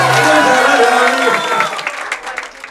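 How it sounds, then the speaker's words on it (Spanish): Applause from a crowd sending off a teacher and the Coliboro family in Chonchi, a dense clatter that starts loud and thins out toward the end, with some talk mixed in. "Fuerte el aplauso para despedir al maestro y la familia Coliboro"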